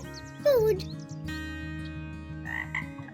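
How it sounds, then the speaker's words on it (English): A frog croaks once in a short rising call near the start, then gives softer calls over a continuous bed of background music. "A frog is an amphibian that can live both on land and water."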